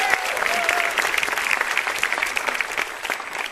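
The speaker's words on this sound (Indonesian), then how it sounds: "Tepuk tangan buat Bang Iwel ya." Audience applause fills a stand-up comedy show, a dense steady patter of many hands clapping close and loud for the full few seconds, with faint crowd murmur and a brief voice underneath.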